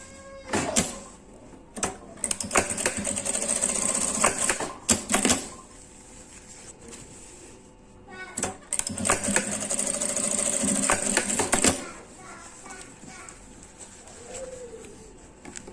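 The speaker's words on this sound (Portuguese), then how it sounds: "agora é só fazer uma costurinha aqui desse lado" Bursts of a sewing machine stitching fabric for a small essential oil holder, rapid mechanical whirring runs of a few seconds each separated by short pauses, close and fairly loud.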